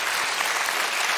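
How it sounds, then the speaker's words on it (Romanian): Brief, loud burst of audience applause at a roast show, a dense crackle of many hands clapping together for just over a second. "Aplauze, vă rog."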